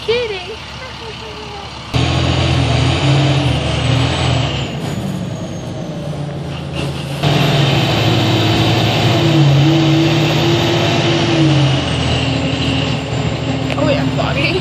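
Interior rumble of a bus engine on a moving bus, steady low drone with shifting pitch as it runs, a voice speaking over it at times.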